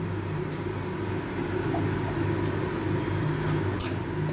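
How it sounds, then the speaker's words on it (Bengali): Nigella seeds (kalo jira) frying in oil in a wok, a steady close sizzle and hiss without a break. "কালো জিরাটাকে একটু ভেজে নেব।"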